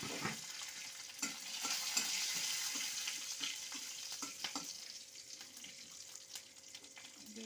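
Slit green chillies and kalonji seeds frying in white oil, a soft, fairly faint sizzle with scattered light taps and stirring clicks, no voices.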